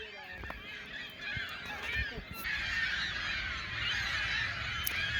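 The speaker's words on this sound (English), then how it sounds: "Millions of birds." A large flock of birds, including gulls, cormorants and geese, fills a reservoir island with a dense, continuous chorus of calls and honks. It holds steady and loud throughout, with no talk.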